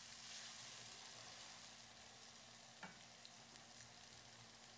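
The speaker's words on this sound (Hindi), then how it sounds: "अदरक और लहसुन के पेस्ट को भी हम प्याज़ों के साथ फ्राई कर लेंगे।" Ginger garlic paste frying with onions over a medium flame for an eggplant curry (baingan ka salan) gives a steady, close sizzle throughout, with a brief stirring scrape near the middle.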